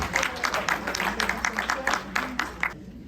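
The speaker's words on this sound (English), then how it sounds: "So a big round of applause to all of you too for all the things that you do for the community." A crowd claps at an International Women's Day awards ceremony, many hands pattering in a lively, uneven rhythm before the applause cuts off abruptly near the end.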